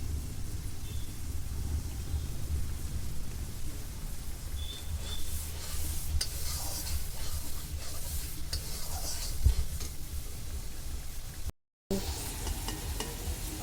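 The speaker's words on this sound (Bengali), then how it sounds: "মশলা কষানো আমার হয়ে গেছে" Spices with Kashmiri chilli powder being sautéed and stirred in a pan for chana masala, a steady close sizzle with repeated scraping strokes of a spatula, one brief dropout of silence near the end, no voices.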